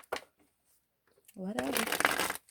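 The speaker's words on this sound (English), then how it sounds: "let's get these cards shuffled" A deck of tarot cards being shuffled by hand, with one quick riffle followed by a longer, louder shuffle. Faint sounds come between the two shuffles.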